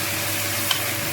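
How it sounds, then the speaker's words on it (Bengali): Pumpkin pieces fry in hot oil with black cumin seeds, a steady broadband sizzle holding level throughout with a single faint stirring scrape partway through, close and with no voices. "নাড়াচাড়া করে একটু ভাজা ভাজা করে নিতে হবে"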